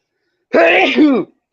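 A single sneeze, loud and close, one sharp burst lasting under a second and followed by silence.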